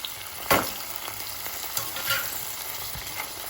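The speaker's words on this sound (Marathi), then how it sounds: "आता टमाटे टाकून घेऊ त्याच्यात" Tomatoes dropped into hot oil in a pan crackle and sizzle steadily, with a burst as they go in and occasional spatula scrapes while being stirred, close and continuous with no talking.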